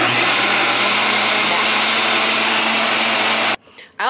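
A blender whirs loudly and steadily while blending a smoothie, a dense continuous roar that cuts off abruptly near the end, followed by a few quiet handling sounds.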